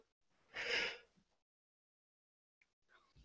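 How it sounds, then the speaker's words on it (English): A single breathy, drawn-out yawn, close and soft, lasts about half a second. Quiet silence follows, then faint rustling breaths. "what is with these yawns?"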